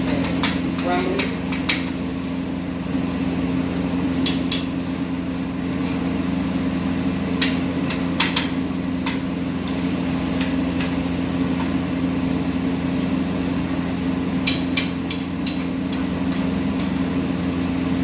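Ground beef being chopped into crumbles in a pan while cooking for baked beans, heard as scattered sharp scraping and tapping clicks over a steady kitchen hum.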